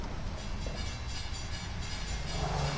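Port Jefferson Branch commuter train led by a C3 cab car with a diesel locomotive, nearing the Cuba Hill Road grade crossing in Greenlawn, giving a steady, fairly distant rumble of rail noise throughout with no talk.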